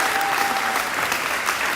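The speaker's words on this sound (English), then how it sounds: "Big round of applause" Spectators in the stands at a varsity volleyball game clap in a steady, dense burst of applause, fairly near and sustained, with no distinct voices standing out.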